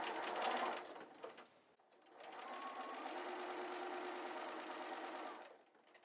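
A sewing machine backstitches binding onto a scalloped quilt border, running in a steady, close whir for several seconds after a brief start and stop, with no talk over it.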